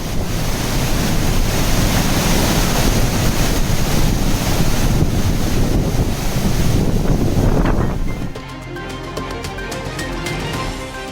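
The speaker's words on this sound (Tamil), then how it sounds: "குற்றால அருவிகளில் வரலாறு காணாத வெள்ளப்பெருக்கு" Roaring floodwater pours over the Courtallam waterfalls in Tamil Nadu during record monsoon flooding, a loud, dense, continuous rush that holds steady and then drops to a lower, thinner wash near the end. No voices.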